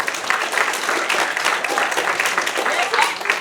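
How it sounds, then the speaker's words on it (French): Applause at a juvenile match, a dense continuous patter of many hands clapping close by at fairly loud level, with voices mingled in. "Une bonne main d'applaudissement."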